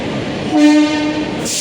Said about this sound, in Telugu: పూరి తిరుపతి బండి అది ప్లాట్ఫారం 1లోకి వచ్చింది